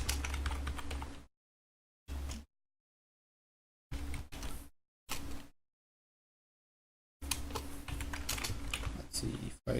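Someone types on a computer keyboard in bursts of quick, close clicking separated by silent pauses, ending in a longer stretch of steady keystrokes.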